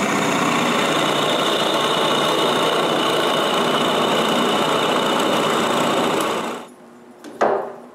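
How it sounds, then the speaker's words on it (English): A power drill bores a screw hole through wood for a workbench vice, a steady loud whirring drone that runs for several seconds before cutting off, followed by a brief clatter. "I finally use these marks to drill the vice's screw hole."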